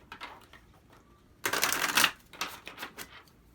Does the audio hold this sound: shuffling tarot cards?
yes